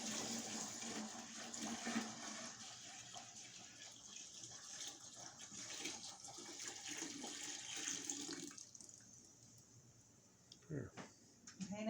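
A full batch of rhubarb berry wine, about a gallon and a half, pours in a steady rushing, splashing stream for roughly eight seconds before tapering off, with voices talking over it.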